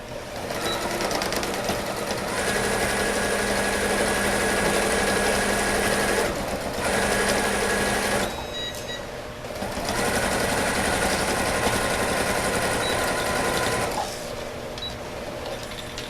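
A sewing machine runs in loud, fast bursts while stitching the pocket of a fabric kitchen organizer, pausing briefly between runs and restarting at a steady, rattling hum.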